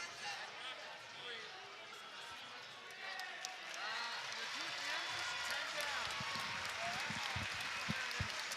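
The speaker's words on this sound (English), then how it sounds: "you hear the crowd giving a round of applause to Jason as he gets back to his feet" A crowd at an amateur fight night applauds steadily for a fighter getting back to his feet. The clapping is a broad, sustained wash that swells slightly midway, with a commentator talking over it.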